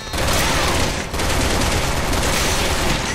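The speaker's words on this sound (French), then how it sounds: "On va utiliser un peu de munitions de mitrailleuse" Sustained machine gun fire in the survival horror game Resident Evil 6, a loud continuous rattle of rapid shots with one brief break about a second in.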